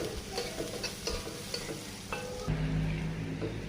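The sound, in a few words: cabbage added to hot oil with onion and garlic, frying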